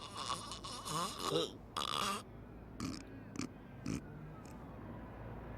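Loud, rasping snoring from a man with sleep apnea, with several separate snorting breaths that alternate with quieter pauses.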